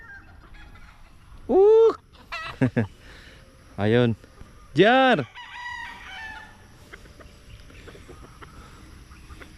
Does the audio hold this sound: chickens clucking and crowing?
yes